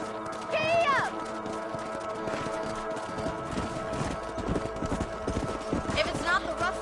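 A horse gallops across a ranch in a PS4 western game, rhythmic hoof clip-clops running steadily under game music and voices, with a short whinny near the start.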